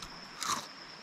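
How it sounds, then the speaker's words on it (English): A single crisp crunch from biting into a beer-battered onion ring, a short bright burst in the middle of an otherwise quiet, hissy moment. "Put that in your mouth and just crunch that."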